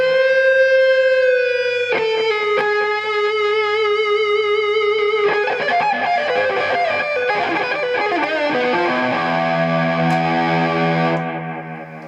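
An electric guitar through an MI Effects Lo-Fi Delay pedal rings out sustained, bending notes soaked in warbling, degraded delay repeats and distortion, with smeared echoes stacking up before fading at the end.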